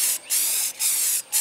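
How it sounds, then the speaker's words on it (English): Rust-Oleum primer sprays onto a car body in three short bursts, each a close, loud hiss separated by brief pauses. "I just sprayed it a little bit"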